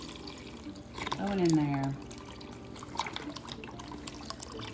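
Beef broth is poured into a pot of French onion soup, a brief liquid splash and stream under close conversational voices.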